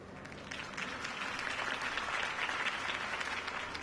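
Crowd applause at a political campaign rally in the Batman Telltale Series video game, a steady wash of many hands clapping at moderate distance for several seconds without pause.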